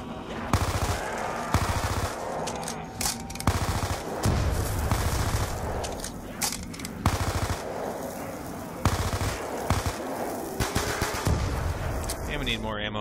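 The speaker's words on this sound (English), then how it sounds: "Let's use the MP5 here. Try and take these zombies out a little quicker." An MP5 submachine gun firing at zombies in Black Ops 2 Zombies on the Town map, with repeated rapid bursts over about thirteen seconds that are steady, close and loud, while game noise and an occasional voice come through underneath.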